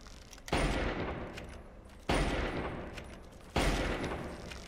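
Gunfire aimed at giant ants in the video game Fallout 3, heard as three separate loud, booming shots spaced evenly about a second and a half apart, each ringing out into a decaying rumble.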